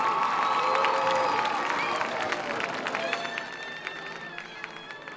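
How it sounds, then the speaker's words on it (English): A crowd cheers and applauds at a homecoming high school football game between San Angelo Central High and Waco High, a loud, sustained roar mixed with whistles and shouts that tapers slightly, heard from within the stands. "Let's give a big round of applause for Stephen Talley."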